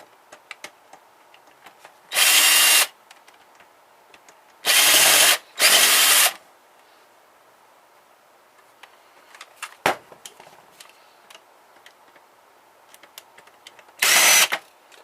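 A power screwdriver pulls screws from a ribbon printer being scrapped, sounding in four loud whirring bursts of about half a second to a second each, separated by quiet gaps with small clicks and handling noises.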